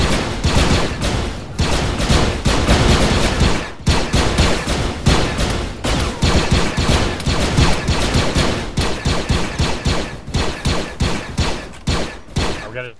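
Rapid bursts of gunfire ring out while targets are shot in a First Order simulation, a dense, loud barrage with brief pauses, then shorter rhythmic volleys toward the end.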